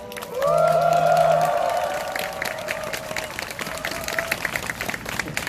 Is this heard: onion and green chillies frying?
no